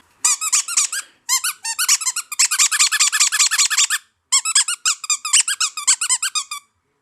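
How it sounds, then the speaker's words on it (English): A squeaker toy squeaks in rapid bursts of sharp, high-pitched squeals, grouped into several runs with a short pause between them, loud and close with no talk. "These are squeakers. What do squeakers do?"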